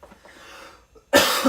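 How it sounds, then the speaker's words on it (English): A person coughs once, loud and close, a sudden harsh burst after a stretch of quiet kitchen background while preparing sea moss. "I just coughed into the sea moss."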